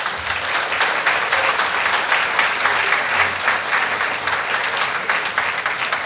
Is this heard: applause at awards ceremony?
yes